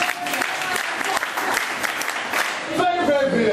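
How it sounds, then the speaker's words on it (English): An audience at a school event breaks into sustained, lively applause that fills the clip, with voices mixed in underneath. "Clap for her."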